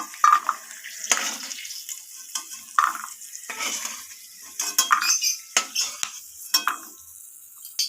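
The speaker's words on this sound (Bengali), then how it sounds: "বাদামগুলোকে আমি নাড়াচাড়া করে একটু ভেজে নেব" Peanuts fry in hot oil in a pan while being stirred, giving a soft, steady sizzle broken by irregular scraping and clinking strokes of a utensil against the pan, close and moderately loud, with no talking.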